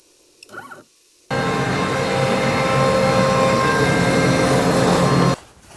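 A CNC machine with a brushless router, powered through a DeWalt AC adapter, cutting a 3D relief; after a brief quiet start the router's loud, steady whine runs for about four seconds and then cuts off abruptly.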